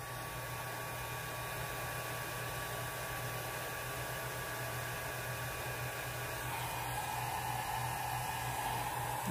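Steady, continuous hiss of an airbrush blowing air to dry alcohol ink on a flower painting, holding an even level throughout with a constant low hum underneath and no speech.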